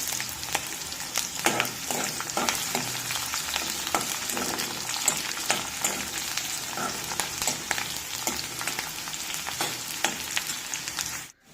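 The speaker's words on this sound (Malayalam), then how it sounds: "നന്നായി ഇളക്കി വറുത്തെടുക്കുക" Chopped shallots, two dried red chilies and curry leaves sizzle in hot oil while being stirred for a taro thoran. A constant close frying hiss is broken by frequent sharp clicks and scrapes from the stirring.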